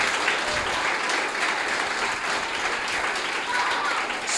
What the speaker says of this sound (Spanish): Vamos a darle un fuerte aplauso al Señor por eso,